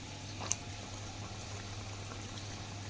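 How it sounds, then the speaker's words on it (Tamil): Ragi kali cooking in sesame oil gives a faint, steady low bubbling simmer with a single small pop near the start, and nobody speaks. "இது நல்லெண்ணெயில் நல்லா வெந்துக்கிட்டு இருக்கு"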